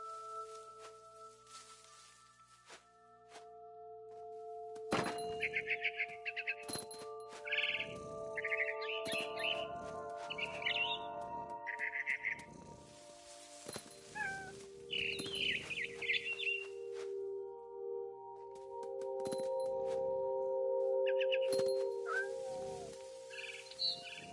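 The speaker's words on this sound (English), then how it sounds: "Then I heard chirping outside my window. It was a barn swallow going back to her nest." A barn swallow in the What Remains of Edith Finch video game chirps in short, bright bursts repeated across the scene over a quiet background of sustained tones.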